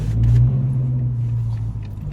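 A 2006 Dodge Charger R/T engine rumbles low and steady from up close, swelling slightly early on, then settling into a deep idle-like drone.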